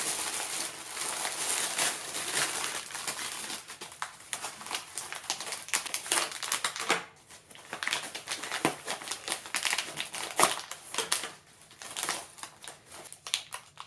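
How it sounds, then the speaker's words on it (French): Packages holding large 4-digit, 7-segment LED display modules are unboxed up close, with irregular crinkling and rustling of plastic and paper, scattered sharp snaps and tearing bursts, and brief quieter pauses between handling. "Allez, déballage."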